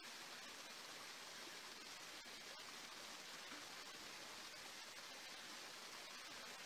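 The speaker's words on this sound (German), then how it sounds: "Und dort gibt es einen künstlichen Wasserfall." Steady splashing of an artificial garden waterfall on the Côte d'Azur, a continuous even rush of falling water with no break and no voices.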